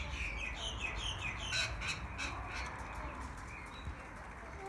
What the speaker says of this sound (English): Oh look, over there you can see a magpie.